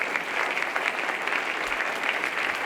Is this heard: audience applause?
yes